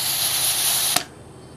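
Pressurised gas sprays loudly and steadily from the fill nozzle of a UHC airsoft revolver while it is being filled, a broad hiss that cuts off abruptly near the end, leaving quiet background.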